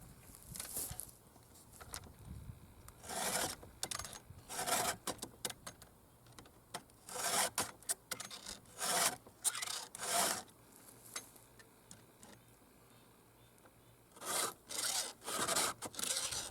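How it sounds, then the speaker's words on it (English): A file sharpens chainsaw teeth in short bursts of rasping strokes, a few swipes at a time separated by brief pauses, close and moderately loud with no speech. "in every tooth, it only takes one or two swipes to get it nice and sharp."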